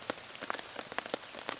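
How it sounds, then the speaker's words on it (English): Light rain patters on a surface outdoors on a hike near Greylock, scattered close drops ticking irregularly with no voices. "it's raining a little bit"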